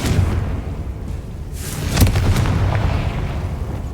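A Confringo blasting spell goes off in Hogwarts Legacy, a loud booming explosion that swells near the middle and trails into a low rumbling roar over a steady game ambience.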